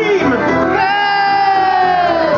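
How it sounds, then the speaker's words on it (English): Audience at a hypnotist night in Cambuslang screams and cheers loudly, a dense continuous wall of high voices held for the whole stretch. "The audience will scream!"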